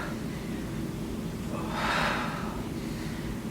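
One heavy, audible breath pushes out midway through a bodyweight workout, rising and fading over a second against a quiet room hum, with no talking.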